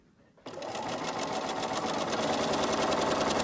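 After a brief quiet start, a sewing machine starts up and runs continuously while chain piecing quilt binding strips, a close, steady mechanical whir with rapid needle ticking.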